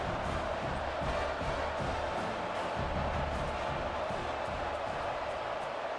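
Stadium crowd noise in the EA Sports College Football 26 video game, a steady, subdued murmur of spectators filling the whole stretch without any loud cheer.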